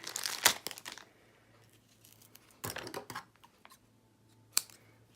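Scissors cutting pieces of foam tape for a papercraft card, a few close crisp snips and crinkles in separate bursts with quiet gaps between them, no talking.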